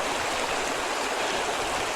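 A river flowing nearby along the South Jura Trail: a steady, loud rushing of water, continuous and even throughout, with no voices.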